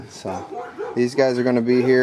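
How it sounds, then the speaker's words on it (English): Dogs yip and bark in short bursts close by at a rabbit breeder's home, mixed in with someone talking over them. "sorry about the dogs barking again"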